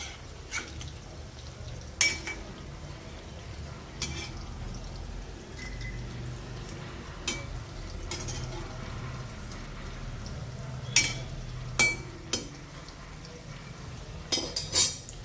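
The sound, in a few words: chicken fingers frying and being flipped in a pan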